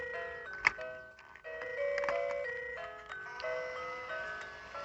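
A Hornby Hogwarts Express toy train plays its electronic tune in clear, plinky melody notes, close and fairly quiet, with a few small clicks.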